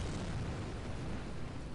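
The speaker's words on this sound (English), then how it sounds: "We're getting more creative with our explosions." A rocket exploding in Kerbal Space Program, a broad roaring blast that fills the clip as a continuous dense rumble, loud and sustained with no voices.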